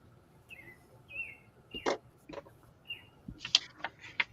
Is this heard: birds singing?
yes